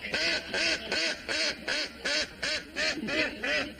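A cartoon duck quacks in a steady run of about ten nasal honks, loud and close, with no talk over it, in a sitcom farmhouse scene.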